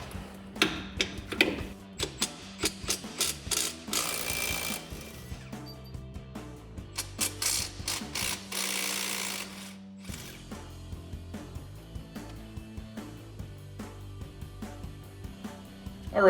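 A ratchet wrench loosens the two 15mm lower strut mount bolts on a Silverado 1500's front suspension. Close, rapid mechanical clicking comes in repeated bursts, with short pauses between strokes.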